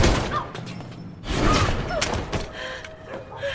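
Gunshot in an action film as a woman named Anna is shot by a henchman, sharp thuds and bursts amid film soundtrack noise, close and fairly loud, with some voice present.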